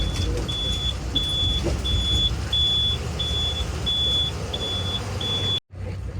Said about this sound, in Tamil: ஒரு பக்கம் வண்டி வந்துகிட்டே இருக்கும்.